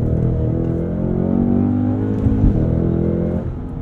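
A Cadillac CT5-V Blackwing accelerating hard through a corner on 888 tires, its engine a loud, steady, throaty roar heard from inside the car, rising slightly before easing off.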